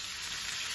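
Cooking oil sizzles steadily in a pan for frying tofu, a continuous close hiss of bright crackle with no pauses over this brief moment.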